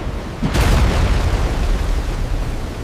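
A ship's cannon fires in a 1643 naval battle off Cu Lao Cham, a Dutch warship facing small boats: one sudden loud boom that swells into a long, dense rumbling roar lasting to the end.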